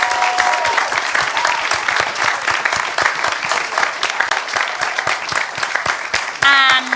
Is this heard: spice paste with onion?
no